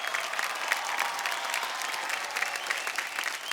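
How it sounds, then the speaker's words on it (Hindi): An audience in an award hall claps, a fairly quiet but continuous ripple of many hands applauding at an even level, with no voices above it. "जितने लोग इस हॉल में मौजूद हैं, सारी बची तालियां आप तीनों के लिए."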